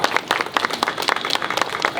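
An audience at a Safe Motherhood Day celebration in North Delhi breaks into loud, dense applause, many hands clapping together in a continuous crowd ovation.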